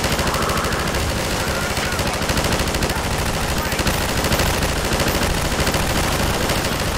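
A mounted turret machine gun in Half-Life 2 fires in one unbroken, rapid, loud burst, its steady stream of shots layered over dense battle noise.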